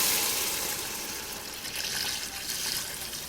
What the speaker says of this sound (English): Let's start with the first quart of water.